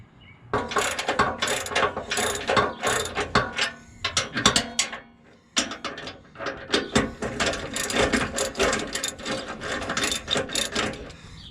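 A ratchet wrench clicks rapidly in repeated bursts, loosening stubborn rear bumper bolts on a Nissan Xterra, with short pauses between runs of close, loud ratcheting.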